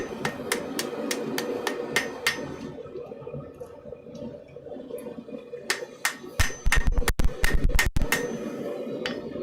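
A hammer strikes forged steel being straightened in a smithy, sharp ringing blows in a quick irregular series, with a cluster of heavier hits near the end over a low background hum.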